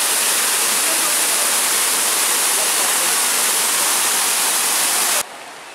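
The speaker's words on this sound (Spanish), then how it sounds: "Obviamente es una cascada artificial" Rushing artificial waterfall in the Barranca de Chapultepec ravine in Cuernavaca, a steady, loud, dense wash of falling water that drops away abruptly to a quieter hiss near the end.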